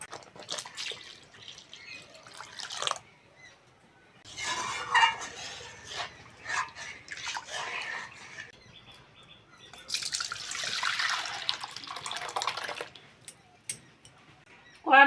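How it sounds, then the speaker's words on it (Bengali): Water is poured into boiled lentils in a cooking pot, with intermittent splashing and gushing bursts between quieter stretches of kitchen clatter and faint background noise. "এবার জল দিয়ে দেবো"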